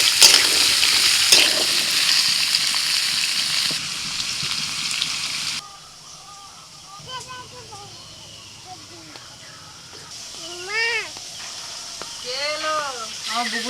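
Potatoes dropped into a little white oil with dried chillies and nigella seeds in a wok, giving a loud sizzle and stirring that fades after several seconds, followed by quieter background with a person talking.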